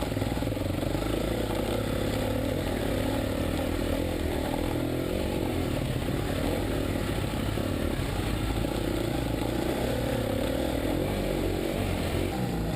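A KTM 350 dirt bike labours up a short sandy forest climb in the Limerick Forest, its engine droning steadily and loud close by, with no clear break or distinct surge in the revs throughout.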